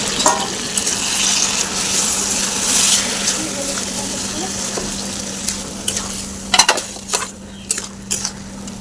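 Lentils and rice are fried and stirred in a pot for vegetarian khichuri, a continuous sizzling hiss with scraping spoon strokes and occasional clinks against the pan, while someone talks over it.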